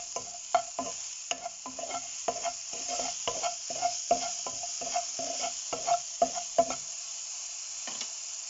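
Onions fry in a pan while a utensil scrapes and taps in a quick, regular stirring rhythm over a light sizzle, stopping near the end.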